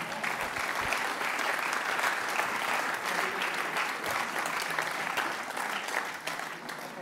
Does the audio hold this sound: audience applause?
yes